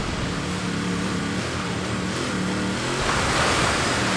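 A car in Forza Horizon 3 splashes and ploughs through water, a steady broadband wash of surf-like rushing with a low engine drone underneath, swelling slightly louder near the end.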